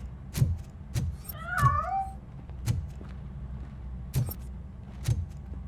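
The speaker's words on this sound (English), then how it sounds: "That cat must be hiding inside." In the video game RoboCop: Rogue City, a cat gives a short, faint, distant meow among scattered soft thuds and quiet background ambience.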